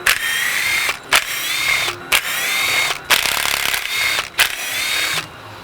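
A power drill spins out Torx T40 bolts from a Ski-Doo 850 Summit clutch cover, with several whining bursts of about a second each separated by short pauses, loud and close.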